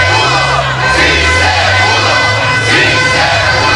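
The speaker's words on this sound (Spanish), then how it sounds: "el grito fue sí se pudo, y lo siguen gritando como ahora pueden escuchar" A crowd gathered outside the Corte Nacional de Justicia chants "sí se pudo" after a court ruling, a loud, continuous mass of voices shouting and cheering together with no pauses.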